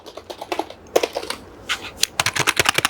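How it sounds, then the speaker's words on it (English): Rapid typing on an Acer Predator membrane keyboard with RGB lighting, soft muffled keystrokes in uneven bursts, close up with no talking. "it's standard membrane keyboard"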